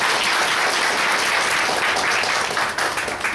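A dense, loud wash of applause from a crowd at a faith gathering, sustained and even throughout, with many hands clapping together and a slight dip just before it ends.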